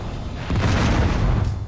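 A Mega Missile blowing up in Descent 2, a loud, dense, rumbling blast that surges and holds for under two seconds before tapering off, with no voices over it.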